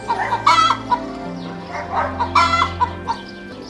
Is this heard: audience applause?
no